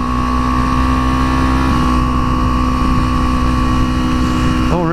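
Kawasaki Ninja 300 and Honda Grom motorcycles on a group ride along Angeles Crest Highway, a loud steady engine drone with strong harmonic whine held close, shifting pitch briefly near the end.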